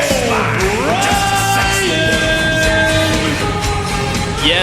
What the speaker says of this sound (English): you can hear the Go Walpole chants from the crowd